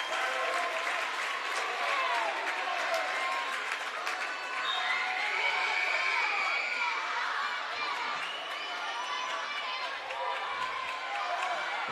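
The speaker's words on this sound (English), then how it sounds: "the Western fans rise to their feet to applaud her defensive effort" Fans at a seventh-grade girls' basketball game applaud in a steady wash of clapping and crowd noise, with a commentator talking over it and court sounds underneath.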